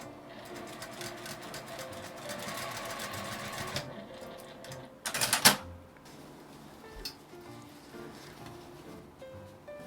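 A sewing machine stitches a 12 cm zipper onto a small round fabric pouch, running in a fast steady mechanical chatter that stops, followed by a brief sharp clatter and quieter handling noises.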